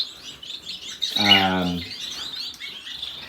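Several parrot finches chirp in an aviary at a bird expo, thin high tweets repeating through the clip while a voice briefly cuts in at moderate level.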